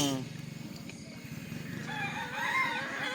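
Roosters crow loudly and repeatedly over a busy background of clucking chickens, with faint voices nearby.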